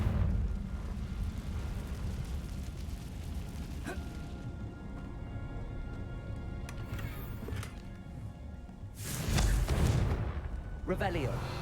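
A Confringo fire spell in Hogwarts Legacy goes off with a heavy, booming burst late in the moment, preceded by quieter ambient rumble and a fainter hit earlier.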